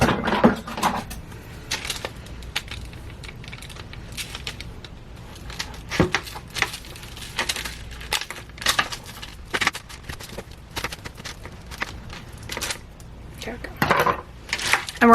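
Knife cutting food items on a board ahead of toasting, producing scattered sharp taps and chops of irregular rhythm, close and moderately loud, with some clattering of dishes.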